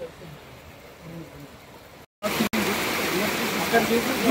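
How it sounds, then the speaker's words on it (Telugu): Treated sewage water pours out at a newly opened sewage treatment plant in Safilguda. The rushing flow is steady and continuous, like a small cascade, breaks off briefly, then returns louder and closer. "ఇది ప్రాపర్ సివరేజ్ వాటర్ ట్రీట్ అయ్యి వచ్చింది."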